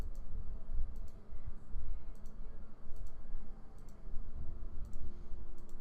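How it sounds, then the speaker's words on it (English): Computer mouse clicks in small clusters, a few quick sharp clicks about every second, faint against a low background hum and rumble. "I'm clicking."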